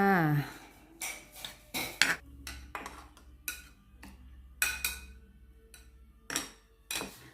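Fruit soaked in rum is stirred in a jar with sugar, giving a run of irregular hard clinks and scrapes of a utensil against glass, close and fairly quiet, with short gaps of near silence between bursts.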